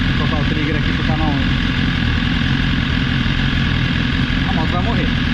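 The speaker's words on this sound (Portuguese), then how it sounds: "Tem a moto falhando, ó." A motorcycle engine idles close by with an uneven, stumbling beat as it misfires, a constant mechanical rumble with brief irregular sputters.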